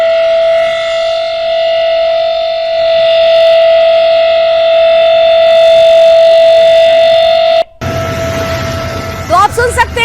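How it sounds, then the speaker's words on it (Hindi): A civil defense air raid siren sounds during a mock drill in Delhi, a loud, steady, sustained wail that holds for several seconds before cutting abruptly into other street noise. "आपात स्थिति में 15 मिनट तक ये सायरन बजते रहेंगे।"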